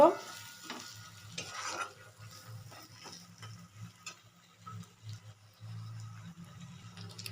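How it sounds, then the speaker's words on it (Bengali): Ginger paste fries in a pan with soft sizzling while a spatula stirs and scrapes at an uneven pace, fairly quiet and close, with no voices. "এখন দেব এক চামচ আদা বাটা দিয়ে আবার একটু নেড়ে চেড়ে নেব"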